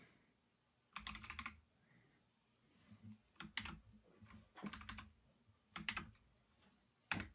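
Keys clack on a computer keyboard in several quick bursts of typing, separated by short pauses, close and fairly quiet, with no talking.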